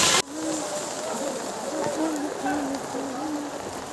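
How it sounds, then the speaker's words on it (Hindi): Steady rain pours down in Katra, near the Vaishno Devi shrine, after a hailstorm. It makes a constant broadband hiss for the whole stretch, with faint voices murmuring underneath. "बारिश आ रही है यार।"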